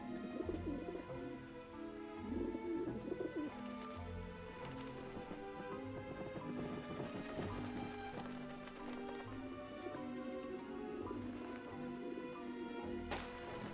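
Pigeons coo and flutter in Grim Fandango, their soft calls mixed into a busy, steady layer of game music and ambience that runs the whole time without a break.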